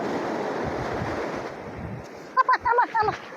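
Sea waves surge in around someone standing in the water on a small island sandbar, a broad rushing wash of surf and wind that fills the clip, with a person speaking briefly near the end.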